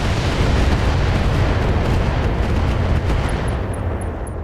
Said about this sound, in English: Full barrage.